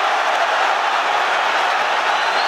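A boxing crowd roars as Luke Campbell lands a body shot on Vasiliy Lomachenko, a dense, steady wall of arena crowd noise with no clear peaks.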